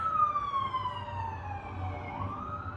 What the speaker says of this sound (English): the ambulance going by